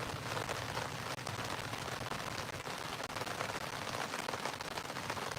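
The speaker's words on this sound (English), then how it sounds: "now it's raining heavier. The wind's picking up a little bit." Heavy rain pours steadily with a dense, roaring hiss, gusts of wind swelling underneath, continuous and close throughout, at a campsite in Tennessee during tornado weather.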